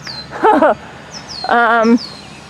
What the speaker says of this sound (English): Look how loud that bird is.